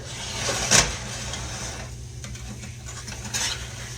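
Stewed apples stirred and scraped in a pan with a spatula where they stick to the bottom, a few soft scraping strokes with one sharper clink near the start, no talking.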